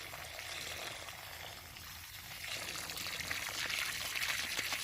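Water pours and trickles steadily into soil around newly planted olive trees, a continuous close splashing hiss that grows slightly louder toward the end.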